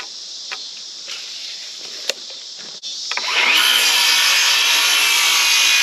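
A power saw cuts through wooden boards for a kayak rack, a loud steady high-pitched whine that starts after a few seconds of light handling knocks and holds to the end.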